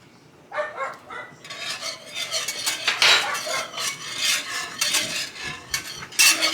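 A spoon scrapes and stirs a thickening mixture in a pot, with repeated rasping strokes and metallic clinks, close and fairly loud, no talking.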